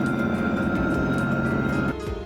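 A plane flies over a United States air show as the final aircraft takes to the sky, a steady loud engine drone with propeller hum that holds evenly, then drops slightly in pitch and level near the end.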